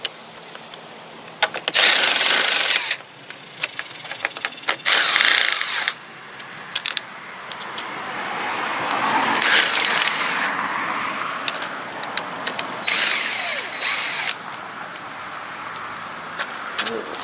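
Several short bursts of a power drill whirring up close, removing fasteners during Ford Explorer windshield pillar and cowl replacement, separated by pauses, with a longer lower rumble and clinks of parts in between.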